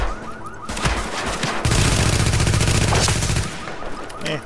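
Sustained SMG fire from The Division video game rattles loud and close in rapid bursts, with a short volley and then a long continuous string of shots before it tapers off.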